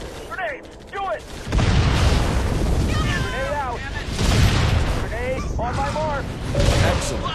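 A grenade blast and rumbling explosions in the strategy game Halo Wars, heavy booming bursts layered with battle noise, while voices shout commands over the action.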